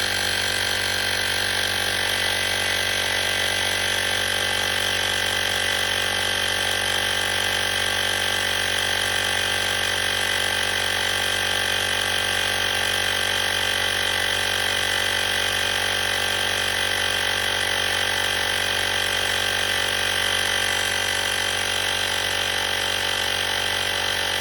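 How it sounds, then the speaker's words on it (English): A portable car tire inflator, set to 40 PSI and attached to a valve stem, runs continuously with a steady, loud mechanical drone and buzz that holds without break from start to finish. "set this to be 40 PSI. And then we're gonna attach it to the valve stem"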